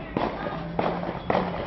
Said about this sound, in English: Just a hail of gunfire just now.